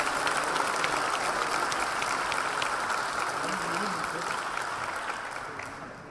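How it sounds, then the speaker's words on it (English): An audience at a public-private partnerships and decarbonization panel breaks into sustained, even applause that slowly tapers off toward the end. "I hope you will join me in applauding the panel"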